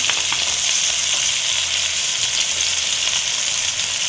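Beans tossed into hot oil in a pan sizzle and crackle loudly and steadily, a dense bright hiss with no voices, while cooking for broken wheat bisibele bath.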